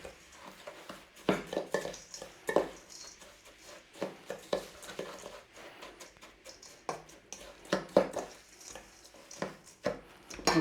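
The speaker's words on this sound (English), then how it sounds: "Stir in, mix up." Spoon stirring melted butter into a thick no-bake orange dessert mixture in a bowl, giving irregular soft scrapes and taps against the sides, close and moderately loud with no talking.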